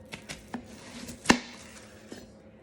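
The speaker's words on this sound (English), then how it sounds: "you're going to cut the onion in half lengthwise from the top of the onion to the base of the onion" A knife cuts lengthwise through an onion from top to base on a cutting board, giving a few faint taps and then one sharp, close chop.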